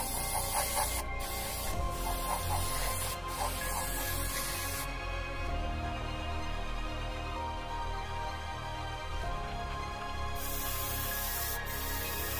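An airbrush or spray can lays a heavy gloss coat onto 1/35 scale HobbyBoss ZSL 92B infantry fighting vehicle model parts, a steady continuous hiss lasting throughout with a few short interruptions and no talking.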